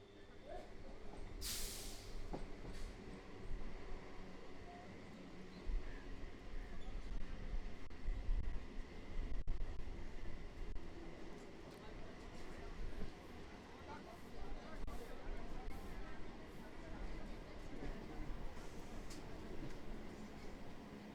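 A Sealdah to Baruipur local train runs along the line with a continuous low rumble and rattle heard from inside the carriage, steady over a long stretch, with voices talking faintly on top.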